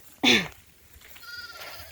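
Goats grazing in an onion field give one loud, close bleat near the start, followed by quieter outdoor background with faint distant calls.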